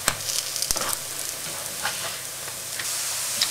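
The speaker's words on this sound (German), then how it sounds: "circa 5 bis 6 Minuten sollten die Fladen auch in der Pfanne sein" Vegan lentil and corn flatbreads fry in a hot pan, giving a steady, soft sizzle with scattered small pops and crackles, fairly quiet and without voices.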